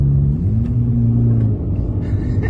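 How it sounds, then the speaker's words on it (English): A BMW M4 climbs uphill with its engine held in gear, a loud, low, steady drone whose pitch sags slightly and then holds, close and continuous. "I don't think that M4 has changed down for the uphill."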